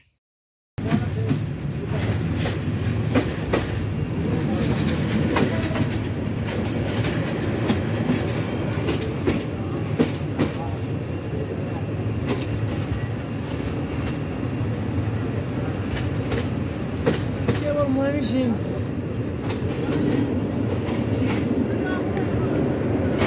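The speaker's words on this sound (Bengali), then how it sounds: "আমাদের ট্রেন প্রবেশ করলো মায়মেনসিং জংশন" The Jamalpur Express rumbles into Mymensingh junction. The wheels rattle steadily with clickety-clack beats over the whole stretch, and faint voices sound under the train noise.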